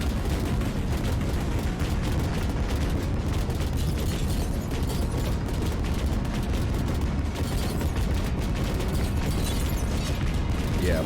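In a video game, split-shot explosions pile on top of one another into a dense, continuous roar of overlapping booms and crackling bursts, loud and bass-heavy throughout with no pauses.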